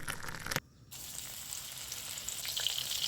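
Oil sizzling in a pan for dried Bombay duck fish, a soft, steady frying crackle with a brief sharp scrape and short gap early on, then continuous light bubbling.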